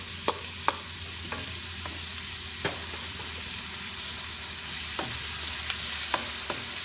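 Garlic fries in a pan with a steady broadband sizzle, broken by a scatter of sharp scraping clicks as a utensil stirs it.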